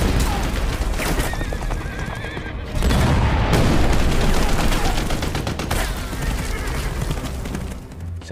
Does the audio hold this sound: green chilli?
no